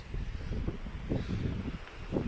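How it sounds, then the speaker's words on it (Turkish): Strong gusty wind at Eğirdir Lake, Isparta buffets the microphone in low, irregular rumbling bursts, fairly quiet overall with no voices. "Çok rüzgar var sesim duyulmuyor olabilir."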